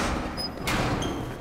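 A grenade explosion in the shooter game Battlefield 3: one sudden loud blast bursting over a dense, noisy combat background, with a lingering rumble afterward.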